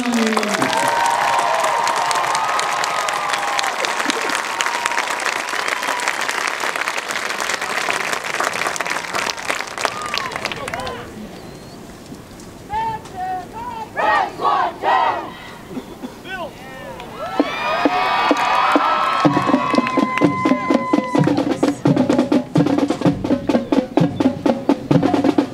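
A crowd cheers and applauds loudly at a high school band show for a school marching band, applause swelling, dipping mid-way, then surging again with whistles and shouts.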